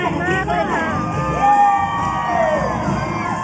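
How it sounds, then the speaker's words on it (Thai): A cheering squad shouts and whoops at a Thai event, crowd voices rising and falling in a continuous loud roar with some sustained calls, close and busy. "กองเชียร์คือแบบว่าส่งเสียงดีใด้"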